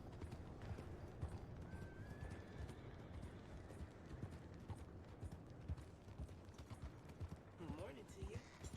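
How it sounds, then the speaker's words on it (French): Horse hooves clip-clopping steadily in a video game, with a neigh and whinny rising near the end, set against ambient game sound and a faint background voice. "Très très beau cheval."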